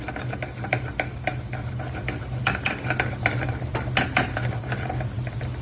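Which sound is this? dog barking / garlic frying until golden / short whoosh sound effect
garlic frying until golden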